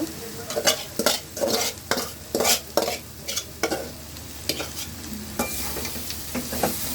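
Boiled noodles being stirred into vegetables in a pan: a series of rhythmic scraping, tossing strokes over a low sizzle, with no one talking.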